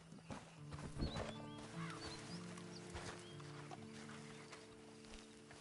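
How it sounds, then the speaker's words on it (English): Horse hooves clip-clop in Red Dead Redemption 2, a steady rhythm of light hoofbeats close by, with game ambience and bird calls behind and a brief louder burst near the start. "Then you better get on this horse."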